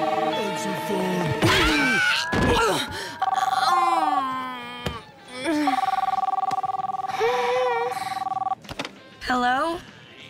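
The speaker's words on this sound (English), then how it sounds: "Answer the phone. Answer the phone." A telephone rings in a cartoon scene with repeated electronic ring tones mixed among animated characters' voices, shouts and sound effects, fairly loud and up close.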